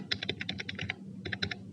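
Fingers tap out a short burst of keystrokes on a computer keyboard, about a dozen quick, close clicks, then a brief pause and a few more taps.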